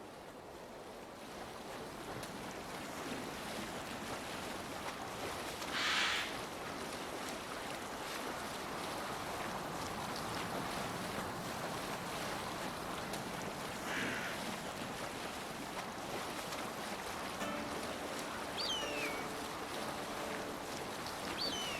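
A sailing boat in Assassin's Creed Valhalla moves through open water, with a continuous broad rush of wind and waves, steady and moderately loud, and a few brief splashes breaking through now and then.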